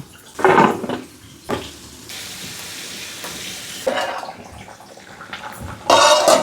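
Kitchen tap water splashing over okra being washed, bursts of running water starting and stopping among pan and stirring clatter, loud and close.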